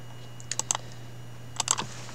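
Two short bursts of clicky keystrokes on a laptop keyboard while a model name is typed into a web browser, quiet and close over a steady low hum, with no talking.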